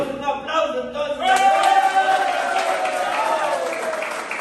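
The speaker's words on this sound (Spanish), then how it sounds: "Damos un aplauso entonces." An audience at a public workers' union event breaks into applause, a dense steady wash of clapping that swells after brief talk and holds fairly loud to the end.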